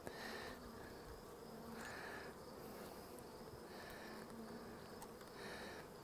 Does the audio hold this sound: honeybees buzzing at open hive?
yes